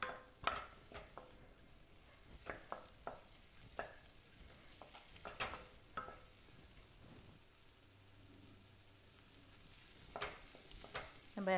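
Marinated cauliflower shallow frying in oil in a pan, a faint, quiet bubbling sizzle broken by scattered clicks and taps of a spoon stirring close by.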